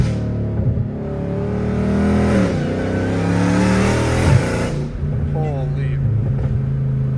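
A supercharged Dodge Hellcat Redeye roars from inside the cabin, its engine note and supercharger whine climbing and falling through loud sustained revs, with a brief exclaimed word over it.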